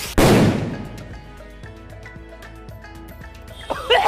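Firecracker explosion: one loud, sharp bang at the start, followed by a rattling decay of echoes and crackle. A voice is briefly heard near the end.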